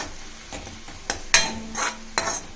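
Potato masala with asafoetida and turmeric stirred in a pan: a spoon scrapes and taps the pan in a few close strokes over a light sizzle, with no voices.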